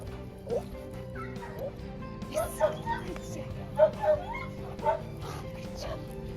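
Search dogs in training bark and yip in an outdoor agility yard with barrels, several sharp barks clustered midway over a low ambient hum, with some whimpering and faint background voices.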